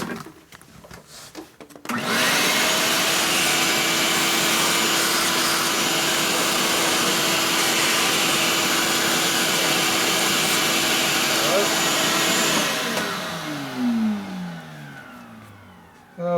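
In a motorcycle workshop rebuilding a 2000 Harley FXR Evolution engine, a vacuum cleaner switches on after brief talk, runs with a loud, steady whine for about ten seconds, then winds down.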